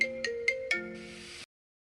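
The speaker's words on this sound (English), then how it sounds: "got a little phone call" Electronic phone ringtone playing a short melodic tune of four bright repeating notes followed by a sustained buzzy tone, fairly close and clear, then abruptly cut off into silence.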